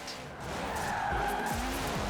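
In the racing game Forza Horizon 4, a car's tires squeal and skid under a steady engine drone, a sustained loud screech with a low thump suggesting an impact.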